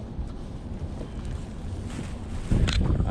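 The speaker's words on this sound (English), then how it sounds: "The wind's about as bad as I said it was going to be" Wind gusts buffet the microphone while kayaking off Waldport, Oregon, a steady rushing roar with water noise that swells louder near the end.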